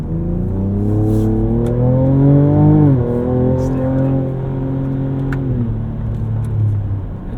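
A 2024 Ford Ranger Raptor pickup's engine revs up loudly, pitch climbing and dropping through gear changes, with brief voices in the background.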